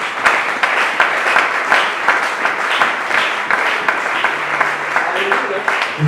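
Church congregation applauding: continuous rhythmic clapping from a crowd, loud and steady throughout, with a voice briefly heard beneath it.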